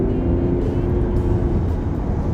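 A Mercedes-Benz S350d S-Class diesel accelerates hard in traffic, its engine drone a loud, steady low rumble heard from inside the car without speech.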